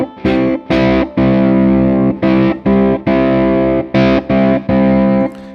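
Heavily distorted electric guitar played with a bottleneck slide on the strings, loud sustained chords in repeated bursts with short gaps between them, no voices.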